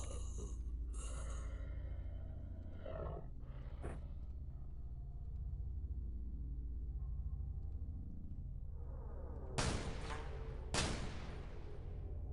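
Small shotguns firing in the XCOM Files video game: a few scattered sharp blasts early, then two loud, close shots in quick succession near the end, with quieter gaps between.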